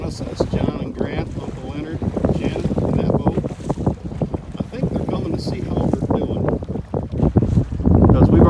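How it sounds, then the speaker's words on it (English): A motorboat carrying anglers comes up on a walleye fishing boat on the water near AuGres, with steady engine drone mixed with wind buffeting the microphone and water noise throughout. "Guys, the other boat coming up on us."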